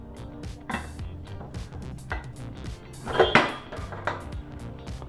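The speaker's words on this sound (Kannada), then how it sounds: "ಬನ್ನಿ ಲಿಡ್ ಓಪನ್ ಮಾಡಿ ನೋಡೋಣ." A cooled pressure cooker holding chicken sambar has its metal lid opened, giving a few clanking metallic knocks and scrapes, the loudest a sharp clatter midway, with no speech.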